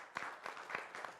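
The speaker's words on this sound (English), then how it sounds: "Come on, a huge round of applause." Audience applause at a fintech workshop on B2B payments, heard as a short, faint patter of clapping with a few distinct claps standing out in a quiet room.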